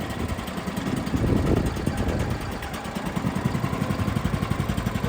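A 1989 Chevy truck engine turns over in the cold and catches, settling into a rough, pulsing idle with a steady low throb that continues to the end.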